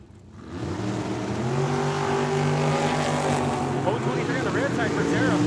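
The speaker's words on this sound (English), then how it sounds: "we got the dragster, the left side, driving out on foul out of Mexico" A dragster driving out at Tucson Dragway during a drag racing event, its engine rising into a loud sustained roar with a steady droning pitch, close and dominant, with an announcer talking over it.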